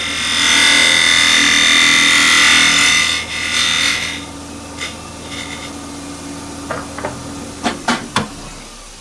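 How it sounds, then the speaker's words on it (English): A spindle gouge cuts into spinning wood on a lathe while a tenon is shaped for a quilter's binding barrel: a loud, steady scraping hiss that fades after a few seconds into scattered light knocks and scrapes. "I'm just going to use a spindle gouge to cut in and make a little bit of a tenon"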